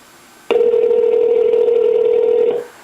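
One steady telephone ringback tone sounds loud and close for about two seconds during an outgoing phone call, then cuts off abruptly.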